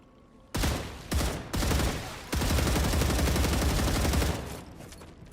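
Sustained bursts of automatic gunfire in the sci-fi video game StarRupture, loud and close, starting with short volleys and running into a long continuous stream before tapering off.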